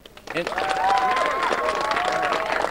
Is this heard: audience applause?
yes